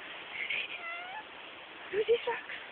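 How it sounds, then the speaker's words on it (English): A cat meows a few times in a short burst near the end, close and fairly clear, while people talk and exclaim in the background in an outdoor encounter with a dog. "There's a cat."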